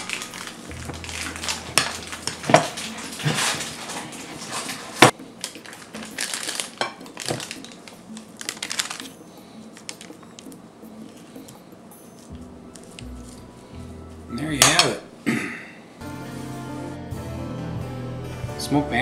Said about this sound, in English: And stir it up one more time.